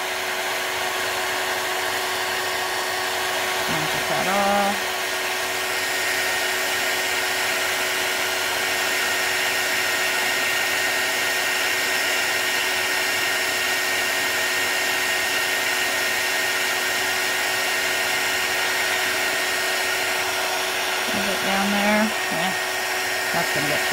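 Embossing heat gun blowing steadily throughout, a constant close airy whir like a hair dryer with a few faint brief knocks along the way.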